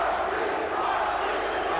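A boxing arena crowd chanting for Iran Barkley during his bout with Michael Nunn, a dense, steady roar of many voices massed together with no single voice standing out.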